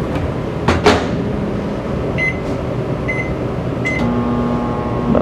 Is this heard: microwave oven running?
yes